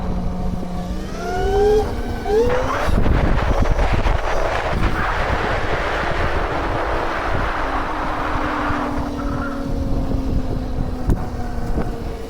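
A KOOZ Mototech 72V 8000W electric motorcycle rides along with a steady whine and strong wind rush across the microphone, holding continuously and loud throughout with no talk.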